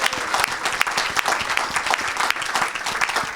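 A large church congregation applauds loudly and steadily for Jesus during an evangelistic healing service, the dense clapping continuous throughout with a faint crowd murmur beneath.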